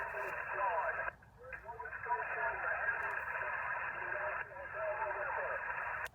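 Amateur radio receiver hiss fills the band with steady static, and a weak, distant station warbles faintly underneath, broken by a couple of brief dropouts.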